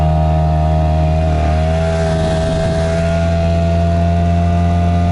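A boat motor runs at a steady, loud pitch with a brief dip near the start, then holds an even drone throughout.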